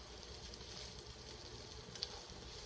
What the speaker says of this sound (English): As you can hear the vegetables starting to sizzle